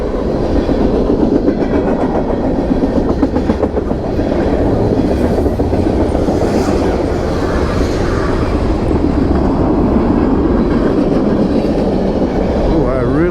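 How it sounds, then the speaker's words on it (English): A train thunders past at very close range, a loud continuous roar with rhythmic clattering of wheels on the rails. "I got you 3 trains up close."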